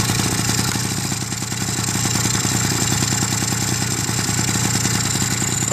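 An old rat moped engine cold-started in spring runs at a fast, steady, rattling idle, loud and close, its even putter continuing with a slight dip near the start and no talk over it.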